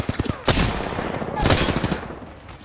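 Gunfire in Apex Legends: close bursts of shots with a quick rattle at the start, then two louder volleys with crackling echoes. A faint voice can be heard under it.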